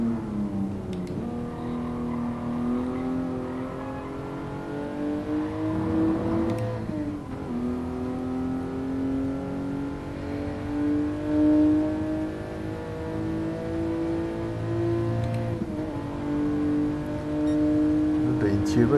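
A 1967 Toyota 2000GT engine in the Gran Turismo Sport racing game revs and accelerates steadily through several gear-like pitch climbs, loud and continuous throughout, while someone talks over it.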